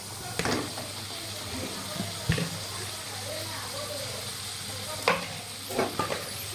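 Potatoes being stirred and fried on a low flame in a pan with masala for samosa filling: a steady low sizzle with a few sharp spoon-against-pan clanks.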